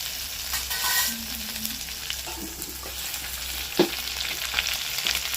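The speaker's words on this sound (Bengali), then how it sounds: "হালকা একটু নেড়ে এর মধ্যে দিয়ে দেবো পেঁয়াজ কুচি" Chopped onions and ginger fry in a pan for capsicum chicken, giving a close, continuous sizzle with scraping stir strokes and a sharp clack near the end.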